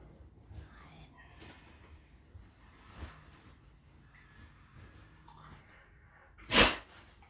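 A single sharp sneeze bursts out loudly near the end, close by, during a calm full-body flow exercise session with quiet breathing and soft movement sounds before it.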